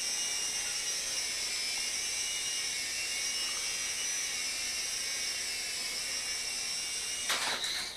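A small Silverlit Spycam Nano toy RC helicopter whines steadily at a high pitch nearby, its motor buzz constant, with a brief clatter near the end.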